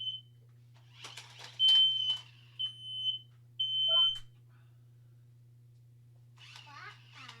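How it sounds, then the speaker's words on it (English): A smoke detector chirps in short, sharp beeps among scattered faint noises and murmured sounds, over a constant low electrical hum in a quiet home. "That was a smoke detector."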